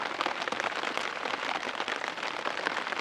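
Steady rain patters on a tent or tarp during a Kodiak bear hunt, a dense continuous drumming of close drops with no pauses.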